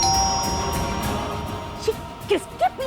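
A doorbell rings indoors in a Hindi TV drama with a few short, clear tones, followed by brief bursts of speech near the end.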